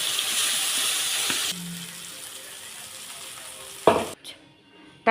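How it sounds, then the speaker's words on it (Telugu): Blended tomato chutney goes into a hot pan with turmeric and asafoetida and sizzles loudly up close at first, then settles to a quieter simmer, with a sharp clatter near the end. "మిక్సీ చేసుకున్న టమాటా పచ్చడి ఇందులో వేసుకోవాలి"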